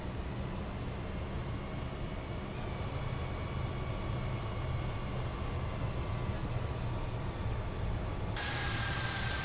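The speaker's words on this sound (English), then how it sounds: "Yeah, Captain Minnesota, the sounds on this airplane are phenomenal." A Fokker F28 airliner in a flight simulator game gives off a steady, even cabin drone with a faint whine layered over it, constant and unbroken throughout.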